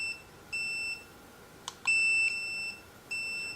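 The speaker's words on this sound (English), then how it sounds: "That is the tone on the collar as well." Repeated high electronic beeps from the remote training collar of a wireless dog fence system, several short steady tones in an even sequence with a couple of small clicks between, close and clear.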